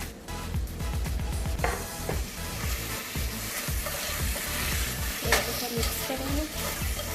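Cubed capsicum and onion fry in a hot pan with a steady close sizzle, while a spoon stirs them in a rhythm of repeated scraping strokes.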